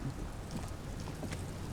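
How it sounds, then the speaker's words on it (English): Rain falls in the video game Disco Elysium as a dense, even wash of steady patter and hiss with a low rumble beneath, continuous and without talk. "Oh, it is raining."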